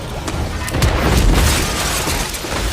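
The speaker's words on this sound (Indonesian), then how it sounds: "tiba-tiba terjadi ledakan" A loud, close explosion from an action film, a deep rumbling boom with broad crackling noise that swells and holds for a couple of seconds.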